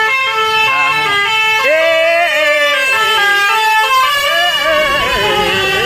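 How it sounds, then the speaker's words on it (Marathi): A vehicle horn honks on the Amba Ghat road of the Kolhapur–Ratnagiri highway. It is a loud, sustained tonal blare that wavers and shifts in pitch for about six seconds, close by. "त्याला आम्ही हात दाखवायला म्हणून त्यांनी हॉर्न वाजवला, मस्त हॉर्न वाजवलाय."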